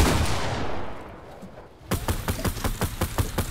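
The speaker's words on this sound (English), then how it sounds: "He's shooting me down, isn't he?" Fortnite gunfire rattles in a rapid series of sharp, loud shots following a fading roar, the bursts coming in an uneven quick rhythm with no voices.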